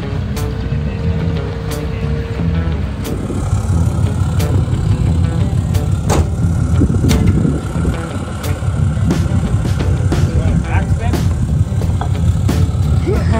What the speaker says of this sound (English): we're going down this bumpy road